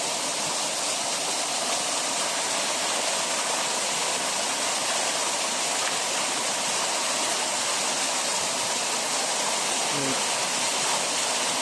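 Tondulan Falls in Alegria, Zamboanga del Norte, a waterfall giving a steady, dense roar of falling water that holds unbroken from start to finish, loud and close with no clear break or other sound.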